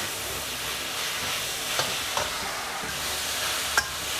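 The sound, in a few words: stir-frying beef with mala spice in a pan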